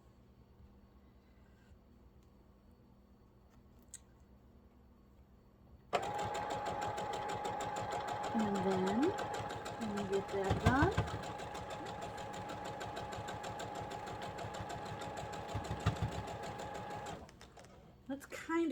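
A sewing machine stitches quilt strips with a quarter-inch seam for a Double Irish Chain block, starting after a quiet pause into a fast, steady mechanical chatter with heavier clunks over seams, while someone talks briefly at the start.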